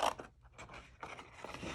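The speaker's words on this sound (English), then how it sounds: "I am just going to take my scissors" Scissors cutting around a stamped paper card image, a series of close crisp snipping and scraping strokes at low level, with small pauses between cuts and no talking.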